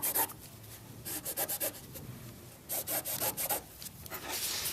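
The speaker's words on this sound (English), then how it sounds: "using my wooden ruler, I'm going to rub back and forth a few times to make a crease" A wooden ruler rubbed firmly back and forth over fabric to press a crease into a drawstring bag casing, giving repeated scraping strokes in short bursts, close and fairly loud, with no talking.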